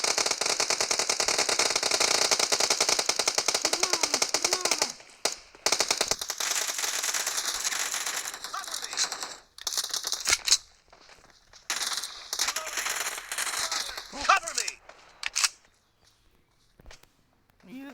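Rapid automatic gunfire rings out in a BGMI Team Deathmatch, first a dense sustained burst, then broken volleys, single shots and footsteps in the game.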